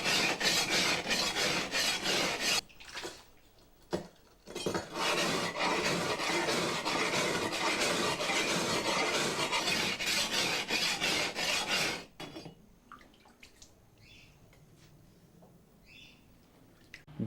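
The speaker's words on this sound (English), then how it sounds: "process is finished with a whetstone" A sword blade being sharpened by hand on a whetstone: steady, loud rasping strokes run continuously, break briefly, then resume before stopping, leaving a quiet room with faint bird chirps.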